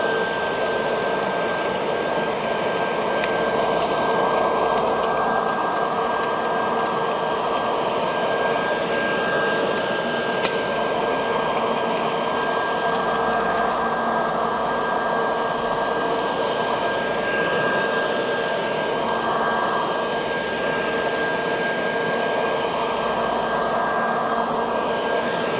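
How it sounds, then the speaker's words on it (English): A lawn vacuum runs continuously while mulching leaves outdoors, giving a loud, steady motor whine with a constant high tone and broadband rushing air, unbroken and with no voices. "we're going to literally vacuum the lawn"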